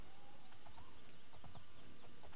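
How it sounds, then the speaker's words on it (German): A horse's hooves clop at a steady riding pace in the video game Oblivion, a continuous rhythmic trot set against a constant outdoor game ambience. "Ja, ich reite überall mit dem Pferd hin."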